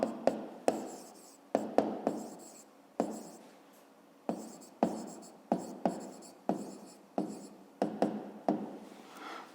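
A pen writes an answer for a fifth-grade math exercise in short bursts of scratchy strokes with taps between them, close and fairly quiet, alone without talk.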